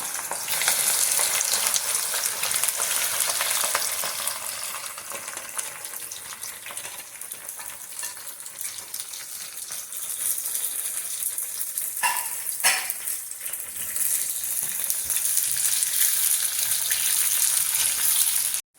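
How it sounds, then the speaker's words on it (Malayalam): Okra frying in hot oil, a dense continuous sizzle and crackle that holds steady for the whole stretch, close and loud, with a brief stirring disturbance partway through and no voices. "എണ്ണയിലേക്ക് ഇട്ട് വറുത്തെടുക്കാം. നല്ലോണം വറക്കണം."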